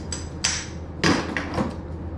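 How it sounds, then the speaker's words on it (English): A hammer strikes brass and copper scrap in four sharp metallic hits, irregularly spaced and close up, with no talking. "You can either just hit it with a hammer"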